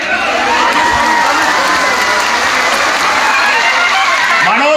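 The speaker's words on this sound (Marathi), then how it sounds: "पुन्हा एकदा टाळ्या वाजवायच्या" A large gathering claps steadily throughout, dense and loud, at an outdoor meeting in Maharashtra. Shouts and cheering rise through the applause, with voices mixed in.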